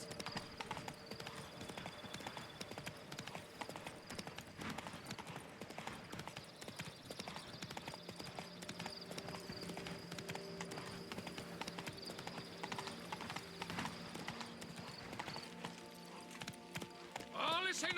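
Steady clip-clop of the horse Roach's hooves at a run in The Witcher game, a continuous rhythmic beat throughout, mixed with game music and ambient sounds, with a brief whinny possible.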